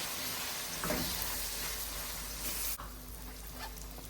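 Onions fry in a pan and are stirred, a soft constant sizzle with a few light scraping strokes, fairly quiet and close, no talking.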